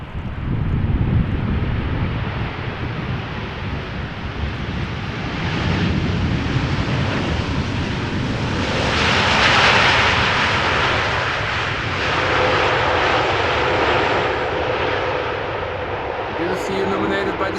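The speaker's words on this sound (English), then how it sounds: "This Dreamliner touched down after 10 hours and 33 minutes of flight." KLM Boeing 787-9 Dreamliner arriving from Rio de Janeiro and landing in gusty crosswind at Amsterdam Schiphol. Its loud, steady jet roar swells toward the middle of the clip, with heavy wind buffeting on the microphone and a faint voice at times.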